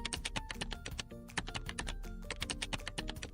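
Rapid typing of an email address on a computer keyboard, a quick, uneven run of crisp key clicks close up with brief pauses, no voices.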